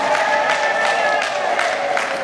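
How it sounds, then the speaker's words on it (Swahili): A crowd applauds, cheers and ululates with high trilling cries for a member of parliament for Mafinga town, a dense steady mass of clapping and voices close by. "Tumshangilie mbunge wetu kwa vigelegele na makofi mengi"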